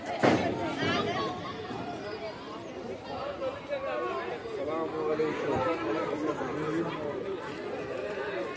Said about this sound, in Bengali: নৌকার এখানে যে ভিড়